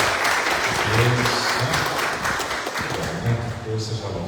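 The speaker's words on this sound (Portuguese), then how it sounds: "Vamos dar uma salva de palmas para esse trabalho de Deus" Congregation at a Baptist church service claps together, a continuous burst of applause with voices mixed in underneath.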